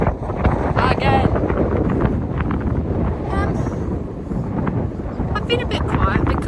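Strong wind buffeting outdoors, a steady loud roar and microphone rumble throughout with gusty surges and faint bird or squeak sounds.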